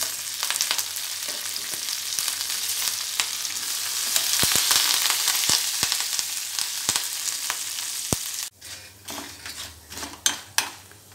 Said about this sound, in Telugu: జీలకర్ర, మినపప్పు, శనగపప్పు, కొద్దిగా మెంతులు, కరివేపాకు వేసి ఫ్రై చేసుకోవాలి